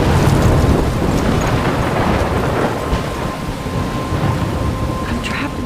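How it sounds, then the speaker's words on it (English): A thunderstorm in the video game Life is Strange: loud, continuous rumbling and rain noise with gusty wind, steady throughout and without distinct separate thunderclaps. "I'm trapped in a storm?"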